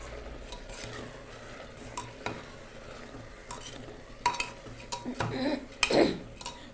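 Rice grains are stirred dry in a hot pan with a spoon or spatula, giving a steady gritty scraping and rustling with occasional clinks against the pan, growing louder toward the end.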